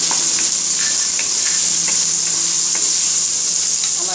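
Capsicum stir-frying in a pan over high heat gives a loud, steady, close sizzle that runs the whole way through, with faint scraping from stirring.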